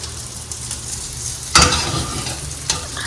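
Sausages sautéing in butter with black pepper give a steady close sizzle, with a louder burst of frying and stirring partway through as the pan is worked.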